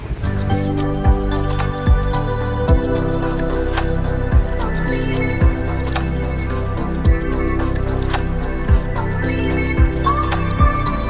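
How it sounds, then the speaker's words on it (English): Wind and rain sweep across a monsoon hill trail at Adai Hills near Panvel, with a steady rushing wash and scattered drips, plus regular soft thuds that continue throughout. "it is very windy and rainy."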